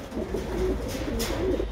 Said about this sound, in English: let's take a look at the pigeons